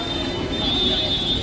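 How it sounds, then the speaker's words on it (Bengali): Street traffic rumbles in front of the Behala tram depot in Kolkata, a steady, dense roar with a thin high whine running through it and no clear voices. "ট্রাম ডিপোর সামনে"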